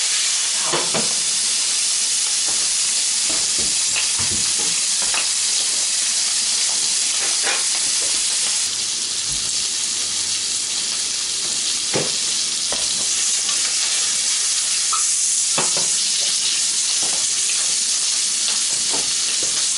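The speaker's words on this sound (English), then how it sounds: "Take our shrimp, and we're only going to cook that for like a minute or so on each side." Shrimp fry in leftover chorizo grease in a hot pan, giving a loud, continuous sizzle with occasional sharp pops and crackles close by.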